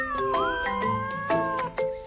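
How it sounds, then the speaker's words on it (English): A grumpy cat yowls in a string of loud, drawn-out, wavering meows, heard up close and alone, rising and falling over about two seconds. "I even hugged the grumpy cat who doesn't like hugs. He yowled and yowled."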